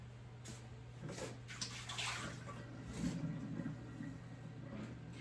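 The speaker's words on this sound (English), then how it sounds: "I run hot water in my cup and I let it sit" Hot water runs from a tap into a coffee cup, a steady close rushing and splashing that swells and settles over several seconds, with a low constant hum underneath.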